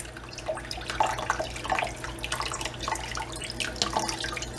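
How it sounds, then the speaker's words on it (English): Butter peas rinsed under running water at a sink, a steady close splashing and trickling with small irregular drips and patters, fairly quiet and without speech. "I put a little water on them if I have to, rinse anything"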